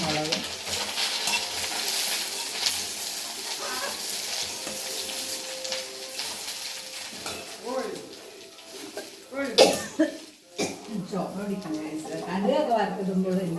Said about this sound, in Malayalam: കടുകൊക്കെ വറുത്തിടുമ്പോൾ എനിക്ക് കടുക് മുളക് കരിവേപ്പിലേക്ക് ഇടുന്നു.